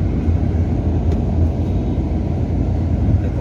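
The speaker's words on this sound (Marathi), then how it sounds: "आता आम्ही ट्रॅफिक लागलेली आहे" Road traffic in Nanded, heard as a loud, continuous engine rumble and hiss of passing vehicles near a parking area, with no talk.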